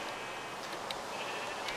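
Minecraft sheep on a survival-server wool farm bleat faintly over a steady hiss, with several short bleats spaced across the brief moment.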